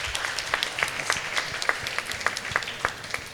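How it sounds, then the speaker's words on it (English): A crowd at a college competition prize announcement claps for a winner. Several nearby sharp claps fall in a loose, fairly regular rhythm over a softer wash of applause, at moderate volume and with no talking. "I need a big applaud for him."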